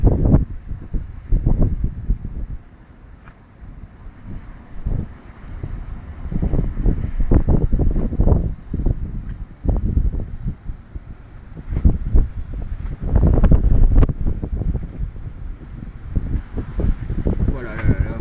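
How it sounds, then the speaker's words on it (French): A strong gust during a winter storm in Pernois, Somme, France, in January 2018: loud, sustained roaring and buffeting wind noise that swells and eases in waves throughout, with a possible faint animal bleat in the background. "Attention, un coup de vent arrive."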